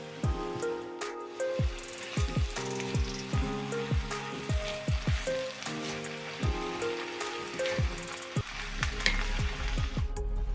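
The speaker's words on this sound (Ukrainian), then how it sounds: "І все разом буду тушкувати під закритою кришкою на маленькому вогні хвилин 15-20." Onion, carrot and beetroot stew together in a covered pan over low heat, giving a soft, steady sizzle and crackle throughout, with a tuneful melody playing over it.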